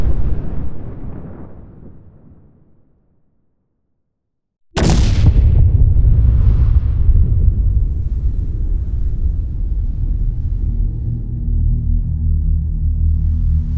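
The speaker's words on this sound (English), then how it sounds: "The explosion is strong enough to break windows nearly 2 kilometers away" A fading rumble drops to near silence, then a sudden loud train explosion bursts in near Helena, strong enough to break windows nearly 2 kilometers away, followed by a heavy, sustained roaring rumble that lingers.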